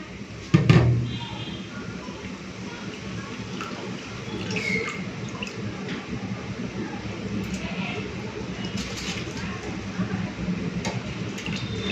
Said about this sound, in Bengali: তো জলটা ফুটে উঠেছে, এখন চালটা আমি দিয়ে দিচ্ছি।